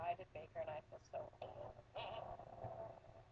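Faint FM radio station 90.5 plays speech-like audio through mild static, sounding thin and distant with a low hum underneath.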